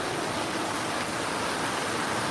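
Heavy rain falling, a dense and steady hiss of water with no breaks, close and fairly loud, with no voices over it.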